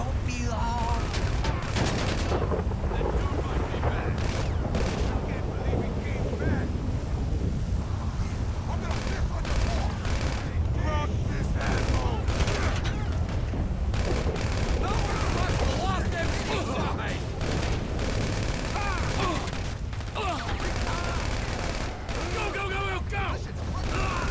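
Gunfire in GTA 5 gameplay, with rapid bursts and steady automatic shots crackling throughout, mixed with game effects, while someone talks over the action.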